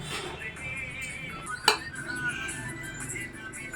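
Plates and dishes clink while a birthday meal is set out at home, with one sharp clink standing out among faint rattles and soft voices in the background.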